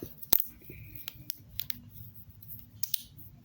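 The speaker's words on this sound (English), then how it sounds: "it's very nice, and it makes a nice clicking sound" Small plastic clicks from a Wacky Tracks fidget toy, irregular sharp snaps spaced through the stretch, close and fairly quiet over low background rumble.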